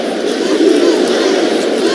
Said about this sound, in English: Arizona fans and Oregon fans battling for the louder cheer here in Seattle.